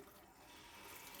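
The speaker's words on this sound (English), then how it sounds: "allow the water to flow out of the faucet until it comes to a complete stop" Water running steadily from a reverse osmosis faucet, a soft continuous hiss and splash at low volume.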